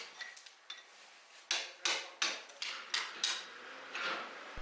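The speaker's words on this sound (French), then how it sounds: "nous devons encore retirer les pierres avec un marteau et un burin." Hammer blows on a chisel chipping stones out of a hole in a stone floor, a run of sharp metallic strikes at an irregular but steady pace, close and fairly loud, with small scraping clatters between hits.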